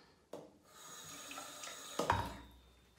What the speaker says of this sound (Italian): Poi prelevo un pochino d'acqua